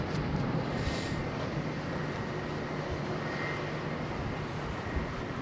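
A Boeing 777 arriving on runway 27R at London Heathrow makes a steady, continuous jet roar at moderate distance, with a little wind noise and no talking.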